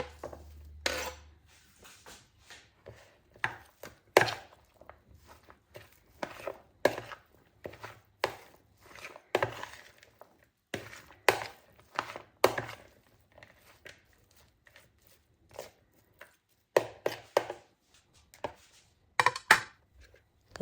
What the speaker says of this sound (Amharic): ወይም ደግሞ በመክተፊያ በቢላ አድርገን መቆራረስ እንችላለን።